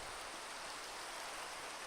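Rain falls in Minecraft as a soft, steady, even hiss of dense patter that runs throughout, faint and unbroken with no other sounds.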